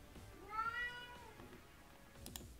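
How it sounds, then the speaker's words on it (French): A cat meows in a short, rising-and-falling call, heard clearly with no talk over it, in the middle of a Dofus tournament match cast, with faint background noise and a brief click near the end. "un chat à faim"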